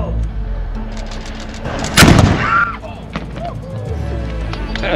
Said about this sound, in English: this little 6-pounder could throw that baseball-sized 6-pound solid iron ball